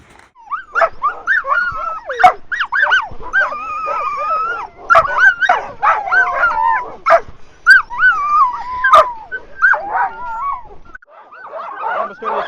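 Sled dogs on an Alaska glacier yip, whine and bark excitedly, with high whimpers and overlapping yelps from several dogs nearby and sharp barks standing out.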